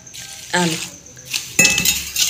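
Goat fodder being mixed with water in a metal pan, with brief scraping, clinking stirs and rustling against the pan, close and loud, with a voice in the background.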